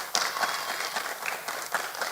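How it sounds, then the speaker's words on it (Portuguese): Church congregation at a Sunday worship service applauding, a moderate wash of many hands clapping at a slight distance, with faint voices mixed underneath. "Vamos aplaudir o nome de Jesus?"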